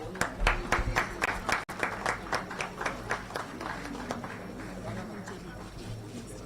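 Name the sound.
applause for Ravindra Shri Jairam Garu being honored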